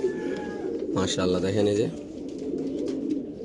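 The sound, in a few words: racer pigeons cooing in cages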